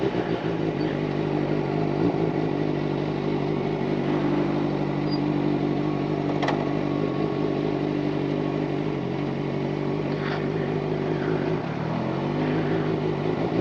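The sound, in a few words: 600cc inline-four motorcycle engine revving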